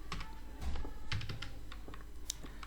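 Faint, quick keyboard clicks from typing a medicine name into Tally Prime accounting software on a computer, a short run of light taps over a steady low background hum.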